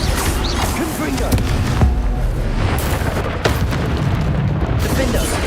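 A Confringo fire spell blasts in the video game Hogwarts Legacy, a loud sustained booming explosion with rumbling crackle over dense game combat noise, a voice shouting over it.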